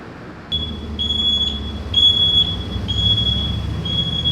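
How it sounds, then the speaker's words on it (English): Repeated high-pitched electronic warning beeps, short tones in an irregular pattern over a steady low engine rumble from a turbocharged Ford with a Chevy engine, fairly close and loud. "It's the most annoying beeping sound in the whole world"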